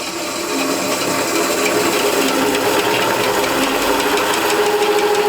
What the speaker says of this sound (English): the machine started, and the blade is actually running really slowly